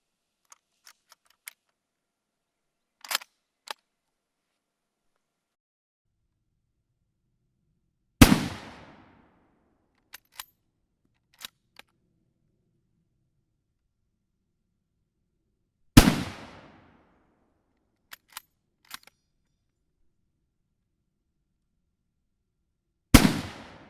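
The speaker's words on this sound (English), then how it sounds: "we're loading this from a 3-shot end block, which will stay in the gun" An en-bloc three-round clip loaded into a WWI-era French Berthier rifle, sparse sharp metallic clicks and clacks separated by silence, with three louder ringing bangs, crisp and close.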